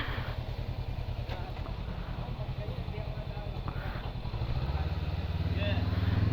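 A Honda big bike motorcycle engine rumbles steadily at close range while riding, its throb rising near the end, with a voice speaking over it.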